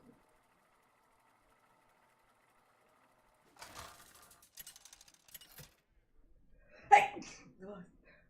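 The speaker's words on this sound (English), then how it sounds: "She's over here sneezing" A woman sneezes once, loud and close, following quieter rustling and faint background sounds.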